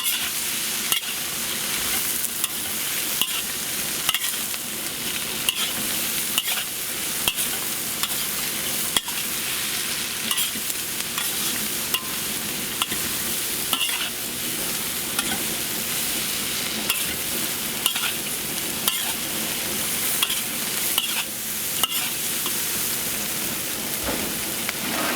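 Food is stir-fried with a shovel outdoors on a back deck: a steady, dense sizzle continues without a break, and repeated scraping and stirring knocks sound close by. No one speaks.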